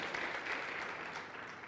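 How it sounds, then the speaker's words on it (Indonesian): Church congregation applauding together, a steady, dense wash of many hands clapping that holds evenly throughout, fairly loud and without a break. "Haleluya, boleh beri tepuk tangan."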